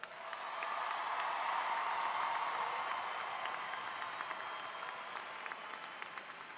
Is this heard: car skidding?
no